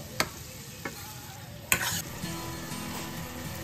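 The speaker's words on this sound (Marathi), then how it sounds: "आता टोमॅटो चांगले गाळ होईपर्यंत आपल्याला छान शिजवून घ्यायचे आहे, परतून घ्यायचे आहे." Tomatoes for street-style pav bhaji being stirred and sautéed in a hot pan: steady sizzling and frying with a few sharp scrapes of the spoon, close up, with no talking.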